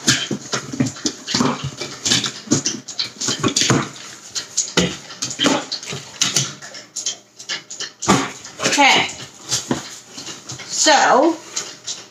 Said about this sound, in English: That's the dog grunting in the background,